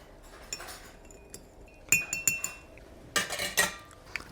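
A metal spoon clinks against a cup several times while sugar is stirred into green tea, with a few sharp clinks in scattered bursts, fairly close and clear.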